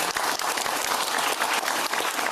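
A crowd claps steadily in dense, continuous applause, loud and sustained throughout with no voices standing out.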